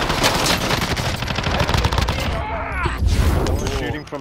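Loud rapid automatic gunfire rattles in a video game shootout, with bursts of fire and whooshing game sounds over a few seconds.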